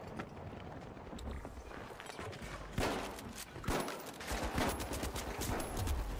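Model 1887 lever-action shotgun blasts in the video game The Finals, a handful of separate booming shots among busy gameplay noise, fairly faint overall.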